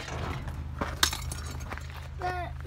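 A glass object breaks with a single sharp crack and brief tinkle, heard close amid a steady low hum and faint background voices.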